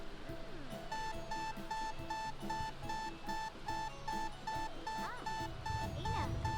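In The Sims video game, an alarm clock sounds a rapid, repeating electronic beep in even bursts with short pauses between them. The beeping plays over soft game background music and stays moderately loud throughout.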